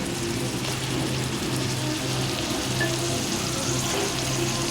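Potato pieces sizzle and fry alongside chicken curry in a pan over medium heat, a steady, close, continuous crackling hiss with no talking.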